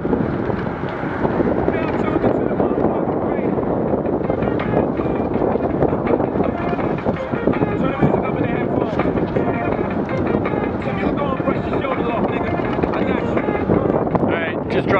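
Steady, loud wind buffeting the microphone while riding a Rad Power RadWagon electric cargo bike with pedal assist at the lowest level, a continuous broadband roar filling the whole stretch with no speech.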